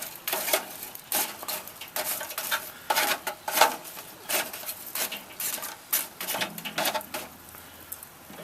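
Chunks of lump charcoal and pecan wood clatter and clink as they are dropped into a Weber kettle grill, a series of close, irregular knocks and rattles.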